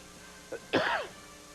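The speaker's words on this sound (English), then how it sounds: "I got a cold, and I'm going to cough" A man with a cold gives a single short cough followed by a throaty clearing burst, close and fairly quiet, in an otherwise hushed television studio setting.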